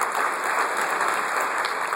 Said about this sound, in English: you can applaud for Dick Clark